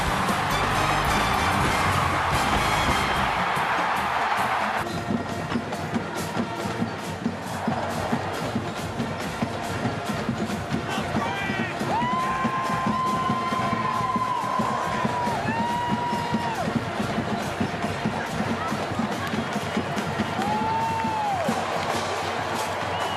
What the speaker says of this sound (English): All day long, the sellout crowd has been waiting for the big play, and they just saw it.